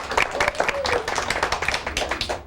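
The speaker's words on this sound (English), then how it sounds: "Let's give them a big round of applause" Audience applause at a TV talk show, a brief burst of brisk, uneven clapping from a modest crowd, close and fairly loud.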